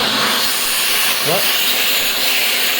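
A Shark Rotator vacuum cleaner runs loudly and steadily with a strong airy hiss and roar throughout, while someone briefly says a word over the motor noise.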